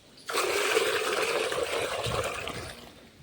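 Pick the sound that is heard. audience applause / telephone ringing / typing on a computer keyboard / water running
water running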